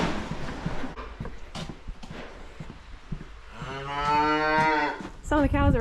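Dairy cows moo on a 70-cow farm, with scattered knocks and barn noises first, then a long, loud drawn-out moo close by, followed by the start of another call at the end.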